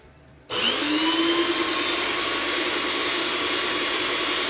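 After a brief quiet start, a paint sprayer's motor kicks on and runs with a loud, steady, high-pitched whine.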